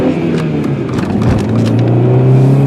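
A 2000 VW Jetta four-door sedan with a five-speed manual transmission drives along, its engine a loud, steady rumble that rises slightly as it pulls, heard from inside the car.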